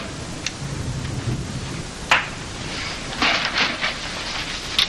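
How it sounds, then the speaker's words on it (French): Rain falling steadily outdoors, a soft constant patter with a few sharper crackles and bursts, moderately quiet and without voices. "Ouais, il pleut pas mal fort, hein?"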